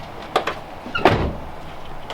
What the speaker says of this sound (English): And when I open the door, you know, it doesn't bind